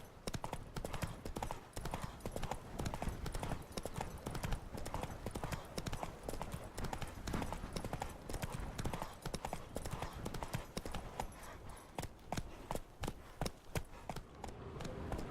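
A horse gallops in The Witcher 3, with rapid, continuous clip-clop hoofbeats at a steady rhythm throughout. The hooves are close and prominent over a faint game background.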